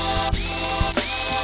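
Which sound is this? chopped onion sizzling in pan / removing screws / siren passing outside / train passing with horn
removing screws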